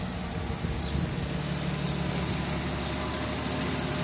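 A 1982 Jaguar XJS with a V12 engine runs steadily at idle, a dense, even mechanical hum holding level throughout with no talking over it.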